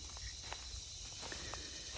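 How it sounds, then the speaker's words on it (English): A faint, continuous high-pitched insect drone, like cicadas, hums steadily in the distance with a few soft rustles. "apparently these cicadas, I'm sure you can hear them now"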